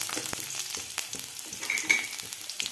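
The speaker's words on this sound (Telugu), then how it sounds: "రెండు ఎండు మిరపకాయలు వేసేస్తున్నానండి వేసేసి చక్కగా ఒకసారి ఇలా" Dried red chillies frying in a pan for a spicy village-style red chilli chutney, with a steady crackling sizzle broken by sharp scraping stirs throughout and no voices.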